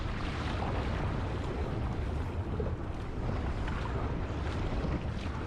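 An Epic V14 surf ski paddled across ocean waves in downwind conditions, heard as steady wash of water and strong wind buffeting the microphone, loud and continuous with no voices.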